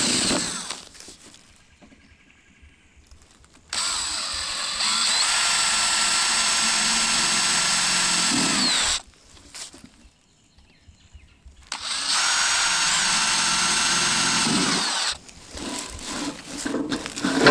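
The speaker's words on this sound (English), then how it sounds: "I just feel like pre-drilling's the way to go." A power drill pre-drilling metal roof panels on a mobile home whirs in two long bursts of about five seconds each, separated by quieter pauses with faint handling noises.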